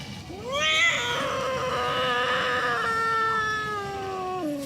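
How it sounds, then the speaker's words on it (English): A sick kitten cries out in pain during a veterinary examination, a single loud, drawn-out yowling meow that holds steady and fades slightly, close and alone. "he's yelping out when I'm feeling his abdomen"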